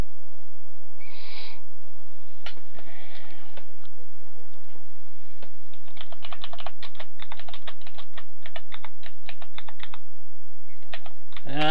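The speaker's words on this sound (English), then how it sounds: "I'm typing if you don't mind." Computer keyboard typing in quick irregular bursts of close, crisp key clicks, sparse at first and then a dense run, with a brief hoot-like sound early on.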